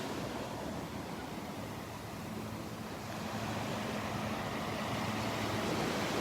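Calm Gulf of Mexico surf at Barefoot Beach before dawn, a steady soft wash of small waves with a faint low hum beneath, distant and even throughout.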